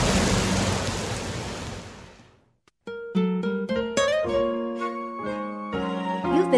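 Steady rain-like noise hisses for about two seconds and fades to near silence, then a melodic tune of sustained tones plays alone.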